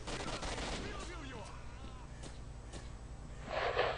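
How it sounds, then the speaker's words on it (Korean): Bursts of gunfire from bandits in the video game S.T.A.L.K.E.R.: Shadow of Chernobyl crackle in the background alongside muffled speech-like sounds, rising into a louder flurry near the end. "총소리가 들리는 걸 보면 아직까지 얘네들이 밴딧들이 남아있는데"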